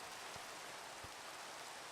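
Steady, soft rain falls in Minecraft, an even hiss of drops with no other sounds, continuous and fairly quiet.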